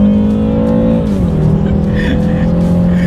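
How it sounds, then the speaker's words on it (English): A 2019 BMW 330i xDrive sedan in sport mode accelerates hard on back roads, its engine droning loud and steady with a pitch drop at a gear change, then pulling again. "let's do a quick little acceleration on these back roads, see how quickly we can get the new 2019 330i sedan here, X-Drive, in sport mode here"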